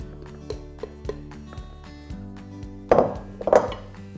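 Brussels sprouts spread by hand across a metal baking tray: a string of light clinks and taps at an even pace, followed by two louder scraping rattles near the end, close and clear with no talking.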